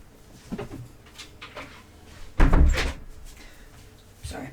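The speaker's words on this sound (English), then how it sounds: "Sorry, I've got to keep that door shut." An interior door thuds shut with one firm, close thump, preceded by softer handling noises and a brief bump near the end.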